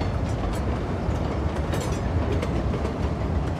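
A train passes in the city-building game Cities: Skylines 2, a loud, continuous rolling rumble with rhythmic wheel clatter throughout.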